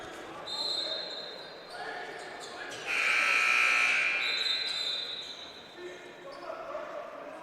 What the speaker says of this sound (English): an error over there at the scores table as the buzzer sounded with no clock expiring